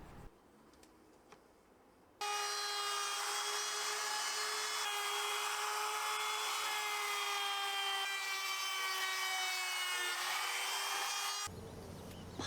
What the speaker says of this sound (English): I put a chamfer bit in my trusty old Makita knockoff router and softened up